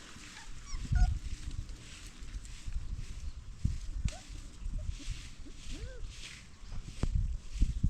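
Outdoors, a puppy gives several thin, high whimpers among scuffling paws and footsteps. Other dog sounds are mixed in, all fairly close and moderately quiet.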